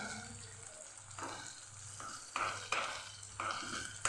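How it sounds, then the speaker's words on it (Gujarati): Onion and potato stirred with turmeric, coriander-cumin powder and salt in hot oil, a close sizzle broken by several scraping stirs that swell the frying noise, no talk. "સરસ આપણે તેલની અંદર મિક્સ કરીએ"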